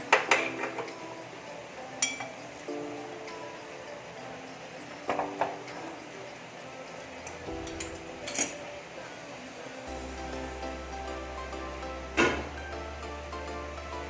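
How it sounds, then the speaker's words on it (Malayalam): A wok being shifted aside in a home kitchen while cooking an Onam curry, with scattered metallic clinks and clanks of pans at intervals over a low hum, moderately quiet. "ഈ ചീനിച്ചട്ടി ഇതിൽ നിന്ന് മാറ്റി വയ്ക്കാം."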